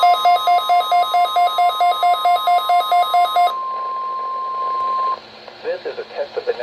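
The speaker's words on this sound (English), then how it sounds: "This is a test of the National Weather Service weather radio warning alarm" A NOAA weather radio warning alarm sounds loud and close as a pulsing, evenly repeated tone burst that shifts into one long steady tone, which then cuts off before a synthetic voice starts talking.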